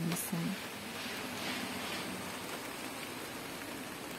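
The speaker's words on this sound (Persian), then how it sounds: "گوش کن، صدای بارونه،" Steady rain falls in a dense, even hiss that fills the whole stretch, with a soft voice briefly speaking at the very start over the downpour.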